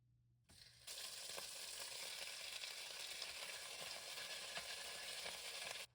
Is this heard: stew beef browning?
yes